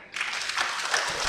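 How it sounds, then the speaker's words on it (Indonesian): Applause from an audience at an Islamic religious lesson, a short burst of clapping that sounds close and fairly loud, continuing steadily through the moment. "Bagus, tepuk tangan."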